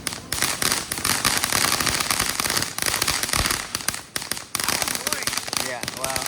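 Fourth of July fireworks lit at a home send out a rapid, dense string of loud crackling pops and bangs with short gaps, while people talk over the noise.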